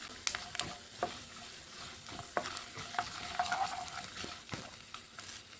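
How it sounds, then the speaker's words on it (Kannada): Urad dal frying in a pan for lemon rice: a soft sizzle under sharp, irregular clicks and scrapes from stirring, close by and with no talking. "ಇದಕ್ಕೆ ನಾನೀಗ ಉದ್ದಿನ ಬೇಳೆನ ಹಾಕ್ಕೊಳ್ತಾ ಇದ್ದೀನಿ. ಇದನ್ನು ಒಂದು ಸ್ವಲ್ಪ ಫ್ರೈ ಮಾಡ್ಕೊತಾ ಇದ್ದೀನಿ."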